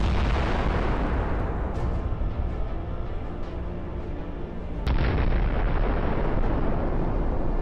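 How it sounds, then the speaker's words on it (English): A Javelin missile strikes its target in combat, a loud booming blast with a heavy rolling rumble, then a sudden sharp crack and a renewed roaring burst partway through. "The Javelin hits its target."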